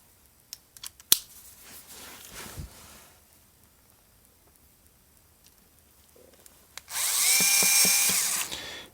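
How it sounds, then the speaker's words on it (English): A drill bores into the plastic hinge cover of a laptop during a hinge repair, a loud steady whine building near the end after a few faint clicks and taps, with no talking. "I might have to drill out a bit of the plastic cover on here."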